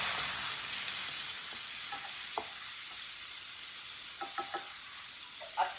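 Tomatoes and green chilies sizzling in a pan, a steady close crackling hiss throughout with a few soft stirring taps.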